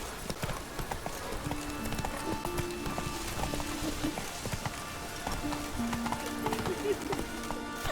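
Roach the horse gallops in The Witcher 3, a steady rapid clip-clop of hooves running under wet rain ambience, with game music and sound effects layered throughout.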